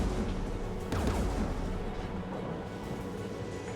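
Mass Effect 3 combat brings rapid bursts of gunfire and heavy booming blasts in quick succession, fairly loud, with one sharp impact about a second in and a rumbling battle din throughout.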